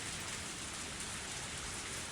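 Steady rain falls in a scene from the Higurashi visual novel game, forming a dense, even hiss that holds unbroken from start to finish with no voices.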